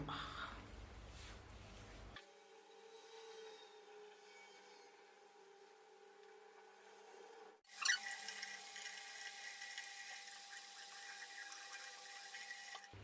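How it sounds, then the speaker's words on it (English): Hands being washed under a running tap, a steady, fairly faint stream of water that gets louder and brighter partway through, with no voices. "So I'm just going to wash it thoroughly."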